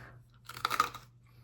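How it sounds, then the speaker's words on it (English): Close, dry crunching of crunchy homemade croutons being chewed, made from leftover turkey-meal bread, a short burst of several crisp bites over a low steady hum. "now I'm chewing this"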